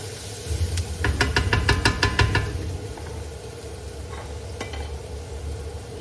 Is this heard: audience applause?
no